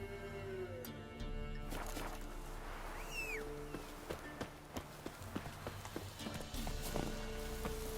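Roach the horse gallops in The Witcher 3, a steady run of hoof clip-clops under game music and ambience, with a brief whinny-like call midway.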